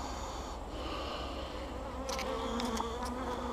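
Honey bees buzz steadily inside an opened hive during an inspection, a dense close drone with a few brief higher whines near the end and no voices.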